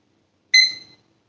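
A short electronic timer beep sounds once, sharp and bright with a quick decay, clear and close in an otherwise quiet room while setting a 40-minute countdown for tracing sewing pattern pieces.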